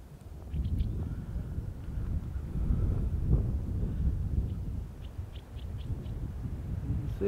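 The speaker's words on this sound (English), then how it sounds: "The wind is blowing this, shaking my tripod a little bit" Wind buffets a camera and its tripod set up outdoors for filming the 2024 total solar eclipse, a steady low rumble that rises and falls throughout, with a few faint high chirps in the background.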